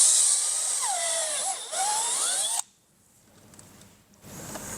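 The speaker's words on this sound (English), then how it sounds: "now all we have to do is match drill these 3 holes with a 5/16 bit" Drill boring 5/16 holes through a plastic fender flare on a 2024 Polaris RZR XP 1000, a loud whining spin with shifting pitch for over two seconds, then stopping abruptly into quiet shop noise.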